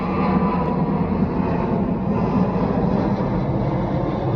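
An airplane passes overhead as a steady, broad, loud roar that holds evenly throughout, with no voices over it.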